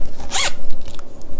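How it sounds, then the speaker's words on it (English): A zipper on a handmade fabric pencil pouch is pulled in one quick, loud, close rasping stroke, with faint rustling handling noise before and after. "So you should still be able to zip it and unzip it"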